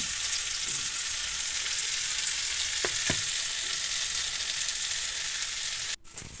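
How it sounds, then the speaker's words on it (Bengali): Steady, close sizzling of onions frying in hot oil already used for frying fish, a continuous crackling hiss with a brief stir near the end. "যে তেলে মাছ ভেজেছিলাম সেই তেলে পেঁয়াজ দিচ্ছি।"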